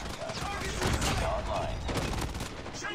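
Rapid automatic gunfire from a 10v10 Shipment match in Call of Duty Mobile crackles almost nonstop for three seconds, dense overlapping bursts, with players talking over the shooting.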